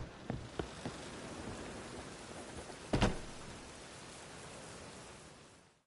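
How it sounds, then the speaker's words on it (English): Rain in the video game The Witcher 3, a steady, hissing broadband downpour with a few sharper knocks and splashes near the start and one louder burst in the middle. "The rain will ruin it."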